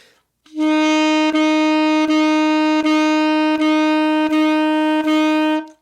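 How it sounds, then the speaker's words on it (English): A saxophone plays a single repeated note, each one cleanly started and briefly stopped, about six evenly spaced tones in a row. "In practice, a basic articulation sounds like this."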